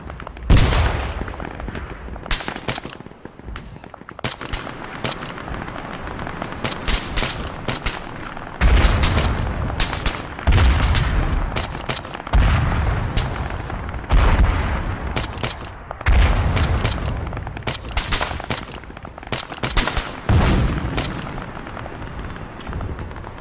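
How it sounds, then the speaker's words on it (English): Mortar fire and explosions in the video game Arma 3 Apex on Tanoa, with loud, repeated booms and cracking bursts arriving in clusters over about twenty seconds and no talking. "They're using our own mortars against us"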